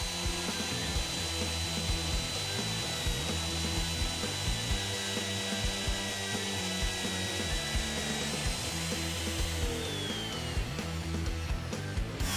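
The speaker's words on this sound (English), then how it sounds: "let's get out the router to clean up these edges" A router smooths the edges and bottom of a routed pickup and control cavity in a wooden guitar body. It is a loud, continuous motor whine with gritty cutting and rubbing bursts as the bit works along the wood, with no speech.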